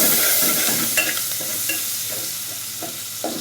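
Onion and green chili frying in a pan with oil after an egg has been fried and lifted out, a steady loud sizzle with intermittent stirring scrapes and clicks of a utensil throughout.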